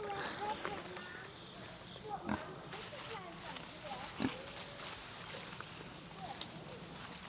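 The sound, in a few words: pigs grunting in pasture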